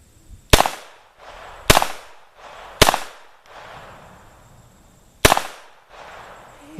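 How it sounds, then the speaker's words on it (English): Beretta U22 Neos .22 pistol firing four loud, sharp shots outdoors, three spaced about a second apart and a fourth after a longer pause, each with a short echoing tail. "it's a fun gun to shoot"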